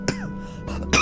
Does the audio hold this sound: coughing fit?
yes